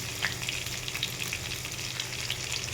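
Potatoes frying with salt in a pan for aloo dum give a steady, close crackling sizzle with faint stirring scrapes, with no talk.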